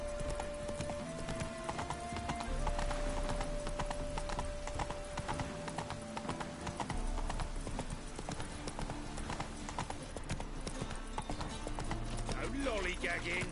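Roach the horse's hooves clip-clop steadily along the road in The Witcher 3 video game, a constant rhythmic trot with a brief whinny, layered under game music and character speech.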